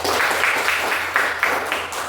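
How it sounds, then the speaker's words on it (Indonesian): A classroom of students gives a short burst of dense, even applause lasting about two seconds, with a low steady hum underneath. "Tepuk tangan untuk kakak."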